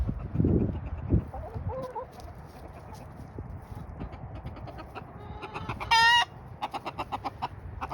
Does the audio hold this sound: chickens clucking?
yes